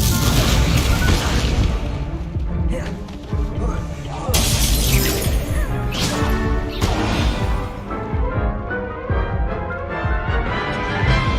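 Spell blasts in Hogwarts Legacy, a fire spell and an exploding curse, crash and shatter loudly over a dense game soundtrack, with repeated booming impacts and brief voices in between.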